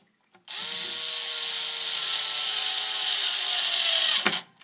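A power driver on a very low torque setting tightens the neck screws of a Stratocaster guitar: one steady whirring run of about four seconds, close and clear, ending in a sharp click as the clutch slips.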